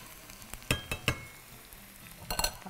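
Basmati rice and other ingredients are stirred together in a cooking pot, giving soft scraping sounds and a few sharp clinks of a spoon against the pot over a steady background hiss, with no voices.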